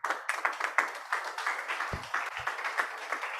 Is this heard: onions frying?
no